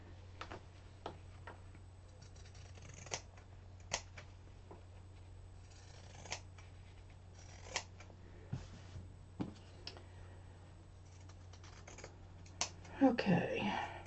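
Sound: pinking shears cutting fabric around a board

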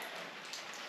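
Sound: rain leaking inside a kitchen

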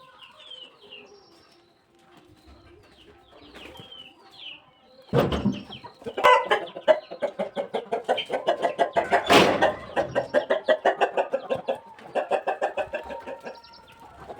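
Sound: chickens clucking

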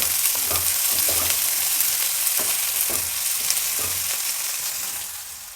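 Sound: onion and tomato frying in pan

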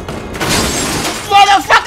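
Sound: car roof being smashed off, from video game Resident Evil 7

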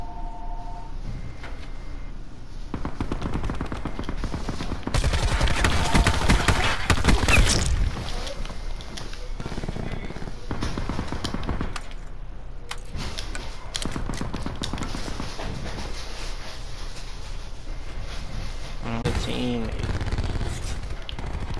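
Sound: gunfire in the video game Call of Duty Black Ops 4

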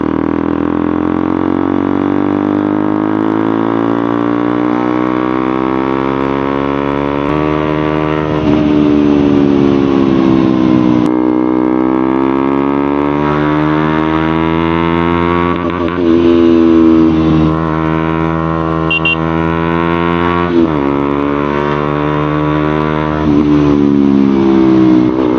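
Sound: KTM Duke 125 motorcycle engine revving with Akrapovic exhaust

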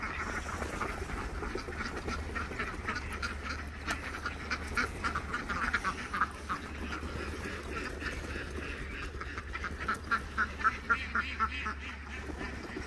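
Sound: ducks quacking

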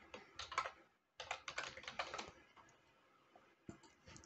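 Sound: typing on a computer keyboard to fill a form

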